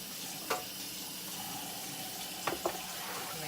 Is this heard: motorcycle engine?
no